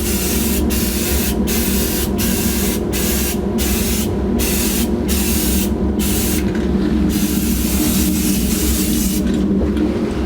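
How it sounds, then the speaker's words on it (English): An aerosol-style sprayer lays a final semi-gloss coat on a power steering pump for a 1984 Jeep CJ7, hissing steadily and close, with brief gaps where the nozzle is released between passes. "This is our last coat of semi-gloss."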